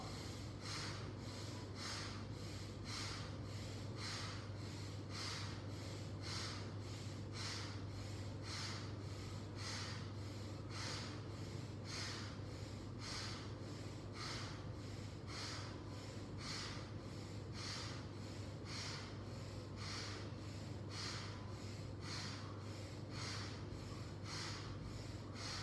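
Rapid, rhythmic bhastrika pranayama breathing done for weight loss, forceful inhales and exhales at about one breath per second, close and steady throughout, no talking.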